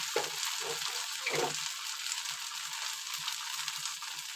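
Bajra flour batter for ghavane sizzles in a hot pan over a high flame, a steady bright crackling hiss with a few soft scraping bursts near the start.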